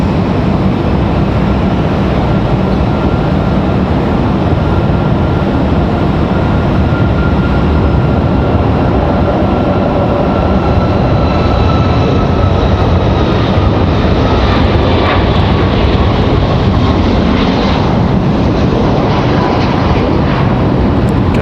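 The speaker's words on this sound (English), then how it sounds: "Ready for departure. Here comes our 737." A Boeing 737 jet airliner departs at Raleigh-Durham airport, its engines a loud sustained roar that builds steadily as it rolls out, with a faint rising whine over the broad rumble.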